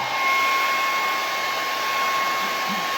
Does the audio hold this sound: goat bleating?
no